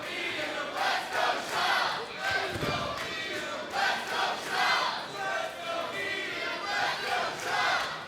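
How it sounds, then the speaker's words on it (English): A wrestling crowd at a Maple Leaf Pro event at St. Clair College in Windsor, Ontario roars and cheers steadily, with surging waves of shouting from a packed audience filling the whole stretch. "Listen to the crowd, they're loving it."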